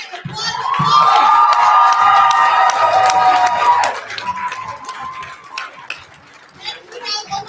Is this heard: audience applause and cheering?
yes